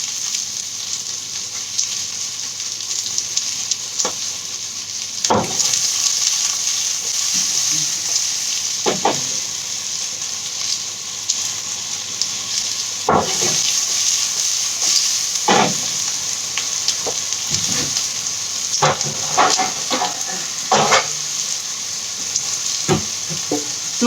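Pork in a frying pan reducing in a sweet and sharp sauce, with a steady close sizzle and bubbling throughout and occasional soft scrapes and stirring clicks.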